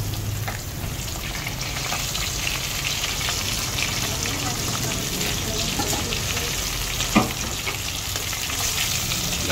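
Mackerel fries in a pan with a dense, steady sizzle and crackle, close and continuous, with one sharp pop near the end.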